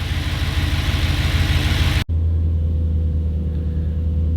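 A warming-up Audi B7 RS4 engine idles steadily with a low, even rumble; about two seconds in the sound cuts sharply and resumes with a deeper, smoother idle tone.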